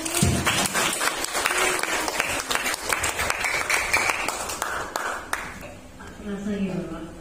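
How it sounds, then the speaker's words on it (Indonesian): An audience at a journalism seminar gives a loud burst of applause that fills the room and gradually thins out, with a voice speaking over the clapping near the end. "berikan tepuk tangan yang meriah."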